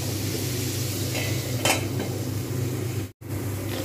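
Masoor dal (red lentils) dry-frying in a pan over a low flame: a constant dense sizzle with one brief metallic stir scrape midway and a short cut near the end, close and without talk.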